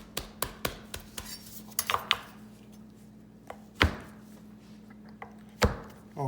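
A knife cuts whole wheat paratha dough into four pieces, producing sharp separate taps and thunks on a board, some in quick succession and others spaced apart, close and fairly clean over a low steady hum.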